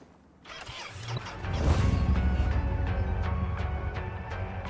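A motorcycle in the Cyberpunk 2077 video game starts up: a mechanical click, then the engine catches and settles into a loud, steady rumbling idle with faint rhythmic ticks.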